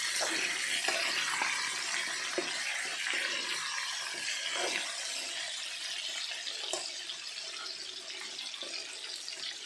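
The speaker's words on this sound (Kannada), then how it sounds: "ಇದು ಎಣ್ಣೆಯಲ್ಲೇ ಫ್ರೈ ಆಗಬೇಕು" Brinjal frying in oil for badanekayi ennegayi, a steady hissing sizzle with occasional clicks and scrapes of stirring, moderately close and continuous, no talking.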